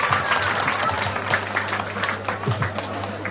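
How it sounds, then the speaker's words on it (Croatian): An audience at a folk festival opening applauds, a dense, continuous wash of clapping heard from the crowd, fairly loud and sustained throughout. "Molim se još jednom aplauz za Zvonka Pavkovića iz Knjaževca"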